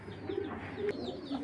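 A racing pigeon coos softly up close, a few low rolling coos spread across a short, otherwise quiet stretch.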